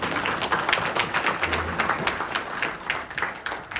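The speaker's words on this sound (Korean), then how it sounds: "우리 나가실 때 박수 한번 보내주세요." A church congregation claps together in a steady, fairly close round of applause that pulses evenly throughout.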